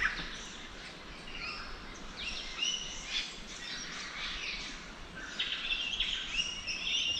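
Birds chirp and sing in repeated bright phrases in an Australian rainforest at Myall Lakes, NSW, over a quiet, faint background, with several calls overlapping at moderate distance.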